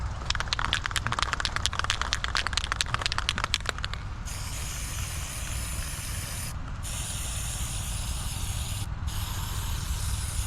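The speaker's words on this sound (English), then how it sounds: "This shadow in an aerosol container" Lithochrome shadow paint hisses from an aerosol can onto an upright memorial stone in a steady close spray, with rattly crackling bursts early on and a few brief breaks in the hiss.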